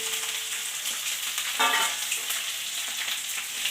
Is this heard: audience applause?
no